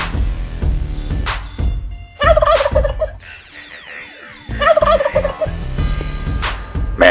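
Several loud turkey gobbles ring out in bursts, each a rapid warbling rattle, with short gaps and lower clatter between them and no talking.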